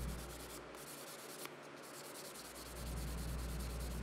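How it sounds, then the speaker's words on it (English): Sandpaper rubbing a carved maple and walnut wooden knife, a faint steady dry scratching with short back-and-forth strokes, quiet and close with no talk. "If it starts looking too sharp, I blunt it to a rounded edge with the sandpaper."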